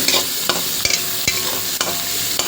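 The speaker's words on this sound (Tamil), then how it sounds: "நம்ம கேபேஜு, கேரட்டு, கேப்சிகம் எல்லாத்தையும் போட்டு நல்லா ஃப்ரை பண்ணிக்கலாங்க" Cabbage, carrot and capsicum stir-fry for hakka noodles. They give a steady sizzle throughout, broken by sharp repeated scrapes and clanks of a spatula against the pan, with no voices.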